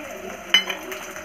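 Panch phoron spices and onion frying in hot oil give a steady, soft sizzle, broken by one sharp clink of a utensil against the pan midway.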